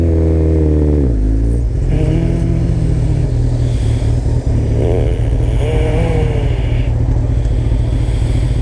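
A dirt bike engine on a night ride, loud and close, with a deep idle that climbs into revving pulls and drops back, holding a strong steady drone throughout.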